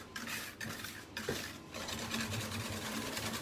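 Sponge cake batter is whisked in a bowl, a busy continuous rapid scraping and tapping of the whisk against the bowl, close and fairly loud throughout with no break.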